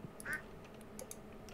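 A small duck named Frodo in a Stardew Valley farm gives a faint, short quack amid quiet ambient game sound and light clicking, with no talk.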